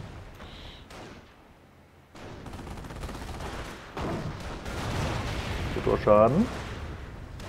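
Howitzer artillery shots boom and crack in the World War II strategy game Company of Heroes, the blasts building toward a louder cluster near the end, under steady German-language commentary from players.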